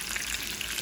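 Hot oil left from frying pork ribs sizzles in a pan as it is stirred, a close, continuous crackling hiss with no voices.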